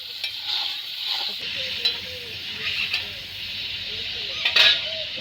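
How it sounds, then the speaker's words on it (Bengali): Paneer frying in a little mustard oil in a wok, a continuous hissing sizzle overlaid with scraping stirs and occasional light clinks of a utensil against the pan. "এখন কড়ার মধ্যে দিয়ে দিলাম অল্প পরিমাণে সর্ষার তেল আর এদিকে নিয়ে নিছি আমি পনির পনিরটির ওই তেলের মধ্যে হালকা করে একটু ভাজ্যা নেব"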